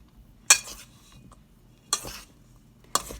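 Food is tossed and stirred in a pan with a utensil, giving three distinct metallic clinks and scrapes spaced about a second apart over a quiet background, no voices.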